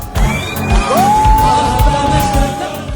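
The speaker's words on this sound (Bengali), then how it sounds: "প্রতিটি হামলার সাথে সাথে যেন উল্লাসে ফেটে পড়ছেন ইয়েমেনের মুসল্লিরা" Worshippers in Yemen crowd the streets at midnight, cheering and whooping in celebration, a loud, dense mass of shouts and high voices rising and falling throughout.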